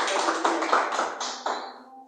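Church congregation clapping for Jesus during a sermon, a steady run of hand claps close by that thins out and fades toward the end.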